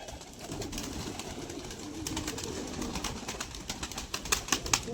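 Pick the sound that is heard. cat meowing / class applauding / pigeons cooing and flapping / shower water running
pigeons cooing and flapping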